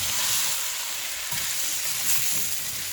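A pot of Moroccan medfouna, chicken with vermicelli, bubbling and sizzling steadily at close range, a dense continuous hiss with soft pops and no voice over it.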